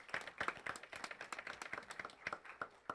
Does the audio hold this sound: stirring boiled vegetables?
no